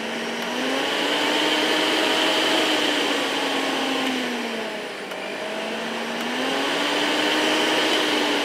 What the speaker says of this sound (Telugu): మిక్సీని మనం జస్ట్ సోలార్తో రన్ చేసేస్తున్నాం